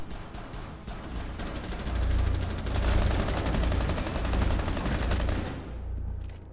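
Rapid gunfire in a Rainbow Six Siege match, sustained bursts of automatic shots that swell louder through the middle and then fade, heard without talk.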